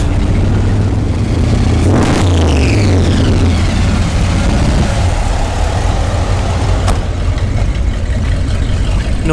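Car engines at the Dragstalgia 2023 car show rumble loud and close, with a heavy low idle throughout, a swelling rev and pass-by early on and another sharp burst later.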